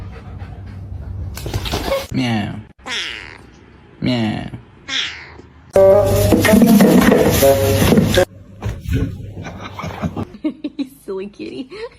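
Several cats let out drawn-out meows and wails, loud and close, mixed with heavy panting-like breaths and a sustained yowl, while a person talks excitedly among them.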